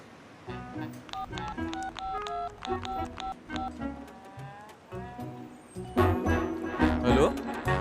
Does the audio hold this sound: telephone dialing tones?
yes